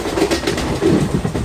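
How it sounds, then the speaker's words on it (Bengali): Wheels of the Howrah–Sahibganj Intercity express roll over the rails at speed, giving a brief, close rumbling rattle with faint rhythmic clatter inside the moving carriage, with no talking. "তবে এই আওয়াজটা কিন্তু চাকা থেকে আসছে,"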